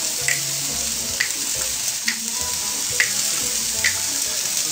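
Pork sizzling steadily in a hot pan, a bright continuous frying hiss with soft periodic scrapes and clicks as the meat is stirred, close up and with no voices.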